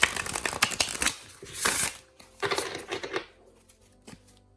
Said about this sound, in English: So I'm gonna give the deck a shuffle